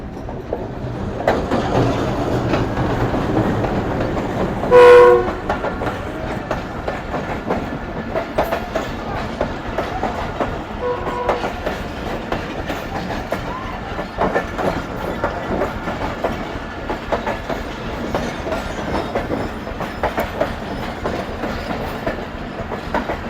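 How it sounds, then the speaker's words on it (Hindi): Bolan Mail passenger train running between Karachi and Quetta, led by a GU20 diesel locomotive, passing with a brief loud horn blast early on, then steady rolling rumble and rhythmic clickety-clack of carriages continuing throughout. "वो आ रही सामने से कराची और कोयटा के दरमियान चलने वाली बुलान मेल"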